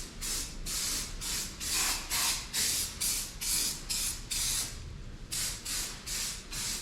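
An aerosol spray can coats a truck frame in about a dozen short, evenly spaced hissing bursts, close and fairly quiet, with brief pauses between each squirt.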